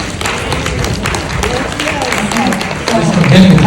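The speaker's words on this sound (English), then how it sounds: "In this room, in a safe space, all genuine clapping." An audience in a room gives a steady round of clapping, with dense, fairly close applause that swells slightly toward the end.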